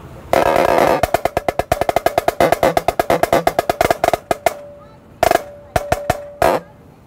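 A marching snare drum plays the Cedar Ridge snare feature: rapid, loud, sharp strokes in dense rhythmic runs and rolls, then sparser accented hits near the end, close and alone.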